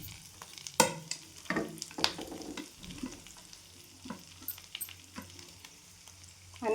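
Crushed matar thecha roasting in oil with curry leaves, a crackling sizzle under irregular scraping strokes of a spatula across the pan, close and fairly quiet.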